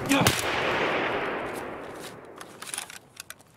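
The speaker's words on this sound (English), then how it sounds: "Someone's throwing grenades at me." A grenade explosion and gunfire in a shooter video game: a sharp, loud blast at the start decays into a long rushing tail, followed by a few faint scattered pops.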